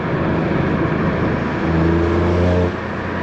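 A BMW G80 M3 with a full titanium exhaust and catless downpipes idles with a rough burble, then revs up sharply through a loud exhaust for about a second before dropping back.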